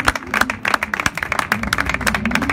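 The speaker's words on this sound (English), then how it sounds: "I want you guys to clap for yourselves, because you're a part of this" An audience at an English-language club gathering claps, a dense run of sharp, uneven hand claps close by that continues steadily for a few seconds.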